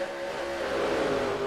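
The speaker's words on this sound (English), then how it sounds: "A big pack of trucks here" A big pack of racing trucks at Pocono Raceway roars past, a steady blended engine drone with a rising and falling pitch, heard at moderate distance.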